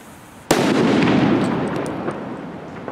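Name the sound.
fireworks banging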